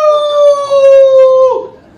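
A voice imitates dogs howling at night, one long sustained wavering howl rich in harmonics, loud and close, dropping off at the end into a brief fading tail.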